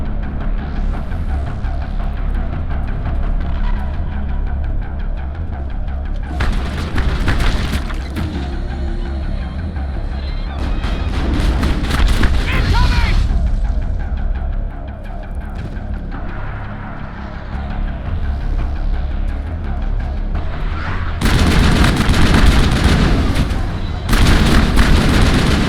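Grenade explosions and gunfire in the video game Mass Effect, fought against the geth at a colony: loud sustained combat with repeated blasts and bursts of shots, heaviest near the end, with voices under the noise.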